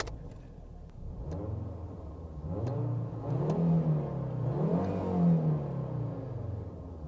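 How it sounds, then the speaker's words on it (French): A Lancia Kappa 2.4 20V five-cylinder engine from 2000 cranks and fires, then idles with a low burble and is blipped through several rising and falling revs, close and steady. "Allez, démarrage du 5 cylindres."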